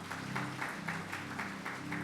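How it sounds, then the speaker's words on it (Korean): Church congregation at a thanksgiving service applauding in praise, a continuous wash of clapping heard at a distance beneath a steady low hum. "우리 주님께 영광의 박수 올려드리겠습니다"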